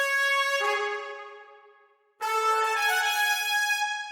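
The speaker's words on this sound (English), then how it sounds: "And I used this library from Contact, Session Horns Pro, pretty amazing. My preset was the power horns." Brassy orchestral horns from the Session Horns Pro power horns preset blare two loud sustained chord stabs, the first fading away before a bright second blast, with no voices.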